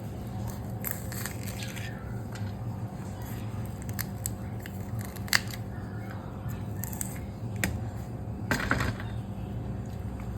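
Green chillies cut on a board in a home kitchen, a few crisp snipping and crunching cuts spaced apart over a steady low background hum, close and fairly quiet.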